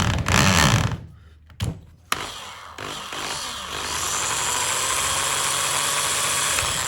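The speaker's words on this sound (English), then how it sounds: "putting the drill in the center of the hole, very carefully, and then slowly starting the drill" A power drill whirs up after a few brief starts and stops, then runs steadily in a loud, continuous buzzing drone.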